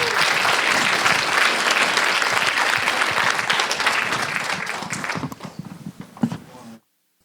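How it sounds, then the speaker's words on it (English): An audience at a leadership summit closing session with a fireside chat applauds in a dense, loud wave of clapping that gradually thins to scattered claps before stopping abruptly. "Round of applause."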